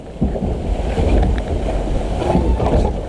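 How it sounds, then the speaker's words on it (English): An older water flume ride boat at Busch Gardens Tampa Bay rushes through water, giving a continuous close churning splash and rush with wind buffeting, no talking. "You can tell it's an older flume ride."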